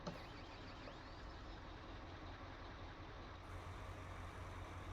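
A heavy T-Rex truck in Farming Simulator 19 during a forestry transport job, its engine rumbling low and steady at a faint level, a brief hiss of air at the start, no voices.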